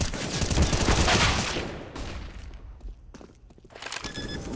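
Grenades popping amid rapid gunfire during a competitive CS:GO match on Mirage: dense, loud crackling blasts for about two seconds, thinning into scattered sharp shots and softer thumps.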